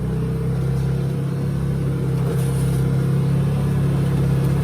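A 2020 Can-Am XMR HD10 UTV in low gear with rear diff lock engaged climbs a small snowy hill, its engine a steady, close mid-pitched drone with a constant low hum.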